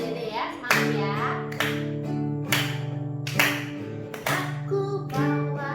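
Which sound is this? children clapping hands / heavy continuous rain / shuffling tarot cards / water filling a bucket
children clapping hands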